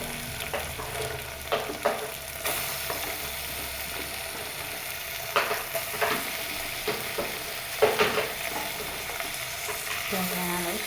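Food sautéing in a pan, a steady close sizzle broken by repeated scraping and clattering stirring strokes at an irregular rhythm.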